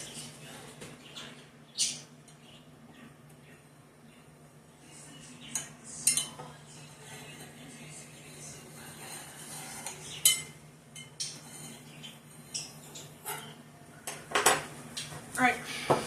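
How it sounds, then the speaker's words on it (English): Metal cutlery clinks and rattles in a kitchen drawer while a knife is sought, with scattered close jangles and clatters over faint background hum and a quiet household setting. "We go get a knife. See if I got a knife."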